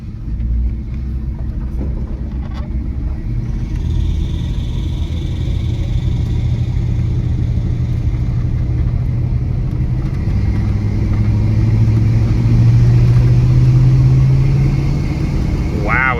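An old Chevrolet C10 pickup truck engine, a barn find, rumbles steadily from inside the cab while driving, a low continuous drone that swells briefly as it picks up speed.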